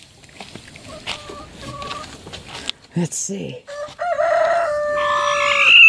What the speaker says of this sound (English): Let's go see if our favorite chicken's in here.